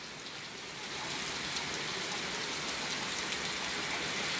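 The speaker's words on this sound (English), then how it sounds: "sometimes when it's raining in New Orleans, it's raining in" Rain falls steadily on a stormy day in New Orleans, a moderate, even hiss that swells slightly after the first second and continues without speech.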